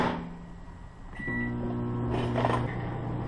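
A microwave oven hums steadily with a low mechanical drone after a click and door or button sounds, heating plastic fishing-bait material for pouring.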